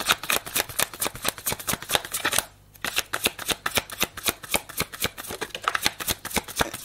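Tarot cards shuffled by hand in a rapid, even riffle of crisp slaps, close and clear, with one brief pause partway through before the shuffling resumes.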